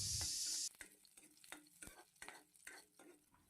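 Green chillies and leafy greens fry in a kadai, with a loud burst of sizzle as they hit the hot oil, then stirring scrapes and soft crackling at a steady rhythm, close and without talk.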